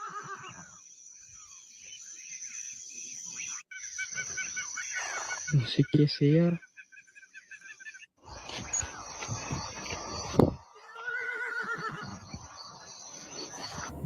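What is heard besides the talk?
horse neighing in a paranormal video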